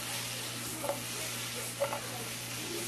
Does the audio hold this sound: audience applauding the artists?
no